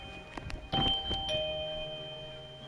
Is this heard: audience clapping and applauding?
no